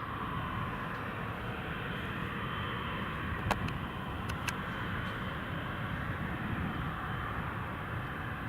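An Emirates airliner rumbles at Newcastle Airport, a broad, steady engine roar heard from a distance, constant throughout with a couple of brief clicks.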